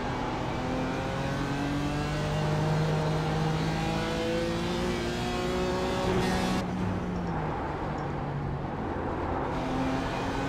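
Race car engine from iRacing in an IMSA Michelin Pilot Challenge sports car race at Mid-Ohio, revving hard in third gear near the rev limiter, a loud continuous droning whine with slight pitch shifts throughout.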